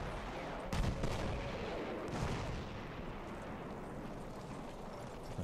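Booming artillery fire in the Battlefield 1 campaign, with heavy blasts near the start and around two seconds over a dense, continuous rumble of distant gunfire and battlefield noise.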